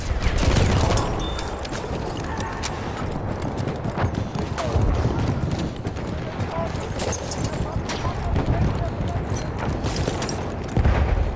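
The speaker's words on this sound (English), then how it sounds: "Machine gun! Over there." Battlefield 1 battle noise with galloping hooves and a horse in the mix, scattered gunfire bursts and impacts under shouting voices, busy and fairly distant rather than one clear close machine gun.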